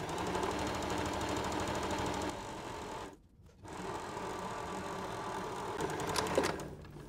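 Sewing machine running steadily while stitching the back seam of a tote bag, a close, continuous mechanical whir with a brief pause partway through before the stitching resumes.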